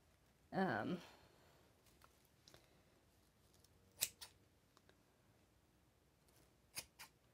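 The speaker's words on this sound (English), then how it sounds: "Now I'm going to cut all the different loops away." Scissors cut fabric loops off a t-shirt, giving a few sharp, close snips spaced apart, with a pair in quick succession near the end; a short burst of a voice comes just before the cutting.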